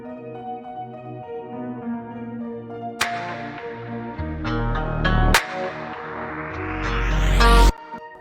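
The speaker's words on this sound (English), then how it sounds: "Kind of gives it like this cool organy Rhodes, like rotary vibe" An organ-like Rhodes electric piano with a rotary effect and EQ plays sustained chords, joined midway by punchy low hits and a rising swell that builds to a loud peak before cutting off.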